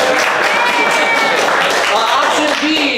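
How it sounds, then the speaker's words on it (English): Audience applause at a student improv games showcase, a dense, steady wash of clapping held at full strength for about three seconds. "All right, audience, applaud now."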